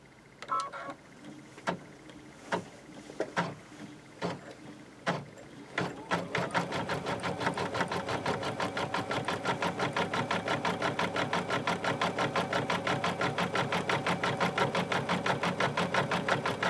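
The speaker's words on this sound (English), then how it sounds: "we stick it back in the machine. All right. Sew out the last color." An embroidery sewing machine stitches out the final thread colour of a freestanding 3D flower appliqué with wire. A few separate clicks and taps come first, then a steady fast rhythmic stitching runs close and alone to the end.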